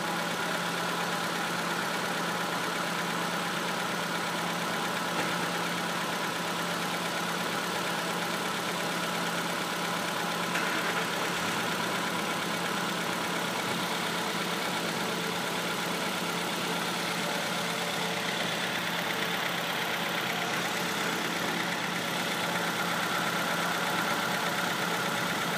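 A 2004 Nissan Sentra with a 1.8 engine idles steadily in a close, continuous hum that holds an even level throughout, with no talking over it.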